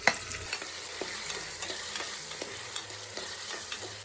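Carrot and onion fry in oil with spices such as cloves, cinnamon, cumin, mustard seeds, green chilli and curry leaves, a close, crackling sizzle broken by regular spoon scrapes and light taps against the pan.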